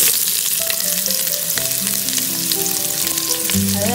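Onions frying in about a tablespoon of cooking oil in a pan give a steady, close sizzle throughout, with crackles and a few faint tonal background notes, no voices.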